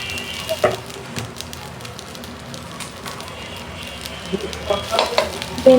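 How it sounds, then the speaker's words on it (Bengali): Okra tipped into hot oil in a pan gives a steady broadband sizzle with a few louder spits and spoon scrapes toward the end, close and continuous with no voice. "এখন হচ্ছে এই যে ভেন্ডি গুলো তেলে নেওয়া হবে দিয়ে দিলাম সব"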